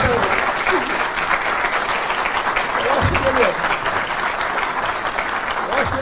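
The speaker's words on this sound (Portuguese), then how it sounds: "Eu peço a salva de palmas para o Marcos Pontes." A seated audience at a Brazilian political event applauds a government minister, steady crowded clapping at moderate loudness lasting several seconds, with faint voices and calls mixed into the ovation.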